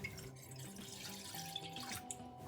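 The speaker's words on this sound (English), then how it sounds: "I'll start by pouring some milk in a pan." Milk is poured into a pan for vanilla custard, a steady close liquid trickle and splash lasting throughout, moderately quiet, with no talk.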